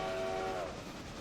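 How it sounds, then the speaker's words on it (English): A multi-chime steam train whistle with stepped chambers gives a sustained, fairly quiet harmonic tone that fades away after about half a second, leaving low rumbling train noise. "The design of the whistle is what makes it sound different."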